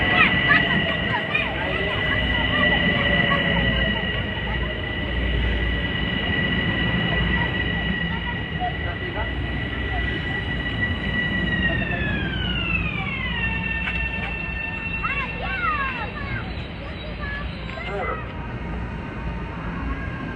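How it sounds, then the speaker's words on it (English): A Metro-North local train bound for Grand Central from North White Plains sounds a long, loud, sustained horn chord with a falling pitch shift as it passes, over a steady rumble of the train on an outdoor line. "train 560, North White Plains to Grand Central Local"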